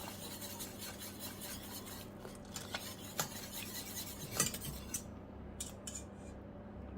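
A spoon stirring and scraping through a sauce thickened with a corn flour mix, in a home kitchen: soft repeated scrapes and a few sharper clinks against the pot, close and fairly quiet, with no voices.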